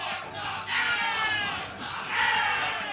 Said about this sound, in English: all I can hear is the crowd in my ears. The one more stock chants are deafening